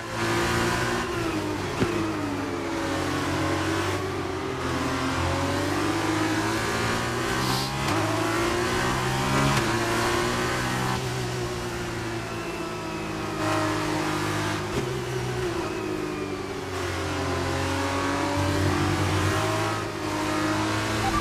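F2 race car from F1 22 on a lap at Jeddah, its engine revving hard and shifting through every gear, the pitch climbing and dropping in repeated sweeps; loud, continuous and close, with no talking.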